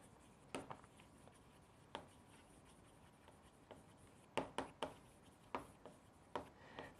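Someone writes by hand, the pen making soft, faint scratches and taps in short irregular bursts in a quiet room.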